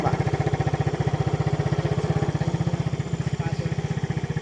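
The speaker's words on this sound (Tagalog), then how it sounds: "Ang daming motor." Motorcycle engines running close by, a steady, dense, pulsing drone that continues without a break, with voices talking faintly underneath.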